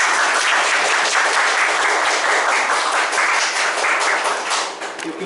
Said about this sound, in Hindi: परमेश्वर के लिए तालियां बजा सकते हैं